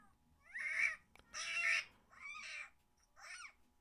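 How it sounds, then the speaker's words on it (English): Four loud, drawn-out kitten screams and meows, each lasting about half a second, with short pauses between them and no voices. "You can hear the other kitten in the background meowing."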